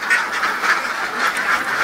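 Laying ducks on a farm quack in a steady, dense chorus, many birds calling at once with overlapping nasal quacks at close range and no talk.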